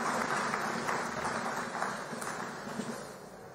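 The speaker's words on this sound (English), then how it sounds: "I believe we can make the applause a bit louder for the Honorable Minister of Science, Technology, and Innovation" An audience at a Nigerian Federal Ministry of Education event in Abuja gives steady applause for the Minister of Science, Technology and Innovation. The clapping is a continuous, moderately distant wash that thins slightly toward the end, with no talk over it.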